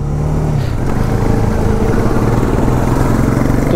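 A motorcycle engine runs steadily and loud up close as the bike pulls away on a mountain road, a continuous rumble with no talk over it.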